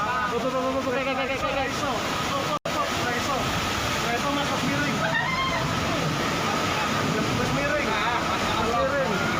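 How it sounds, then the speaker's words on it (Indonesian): A motorcycle pushes through flood water in a flooded village in Dieng Kulon, Banjarnegara, Central Java, with continuous loud sloshing and splashing and a voice talking over it. "Pengendara motor ini nekat menerjang banjir yang melanda perkampungan Dieng Kulon, Banjarnegara, Jawa Tengah."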